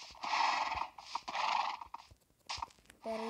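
A horse in Minecraft Pocket Edition whinnies loudly several times in a row, close by and alone with no talk.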